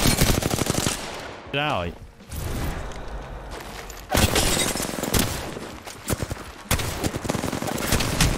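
Gunfire in Apex Legends from an assault rifle, dense rapid automatic bursts with shattering glass and mechanical clatter, loud and nearly continuous while a voice speaks briefly.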